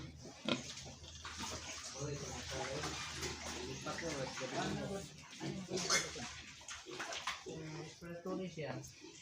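Pigs splash about in a water pool on a farm, with irregular sloshing and splashing under steady talk and some background voices.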